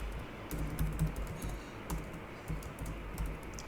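Fingers type on a computer keyboard in an irregular stream of close, soft key clicks over a steady background hum.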